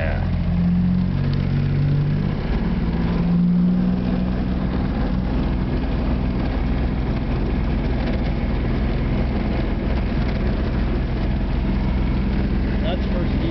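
A vehicle engine drones steadily close by as it pulls away in first gear, a continuous low hum that rises slightly at the start, with a voice speaking briefly over it.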